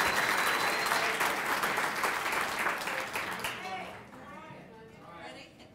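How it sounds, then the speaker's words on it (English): An audience at a winter awards ceremony breaks into loud, dense applause that gradually thins and fades toward the end, with some voices audible as the clapping dies down. "So let's give them all a round of applause."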